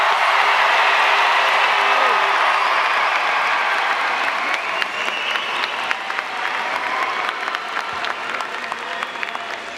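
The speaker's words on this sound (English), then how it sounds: "Parents and family members, how about we make some noise for the class of 2026 to start off?" Loud, sustained applause and cheering fill a large venue at a high school graduation ceremony, a dense crowd clapping throughout with scattered whoops that slowly ease toward the end.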